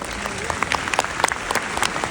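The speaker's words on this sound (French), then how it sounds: "Veuillez l'applaudir, s'il vous plaît." A crowd applauds to welcome the Minister of Urban Planning, Territorial Communities and Land Development at a forum on building in Senegal, with steady close clapping throughout and a few louder claps standing out.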